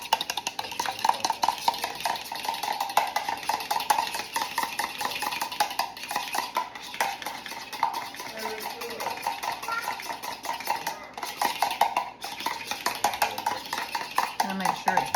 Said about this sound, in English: And now we just have to stir it up real good.